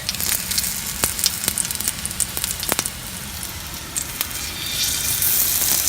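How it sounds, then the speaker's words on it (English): Two bread slices fry in a teaspoon of hot oil, a steady close sizzle with scattered crackles and pops throughout, no voices. "In 1 teaspoon of oil, you can fry"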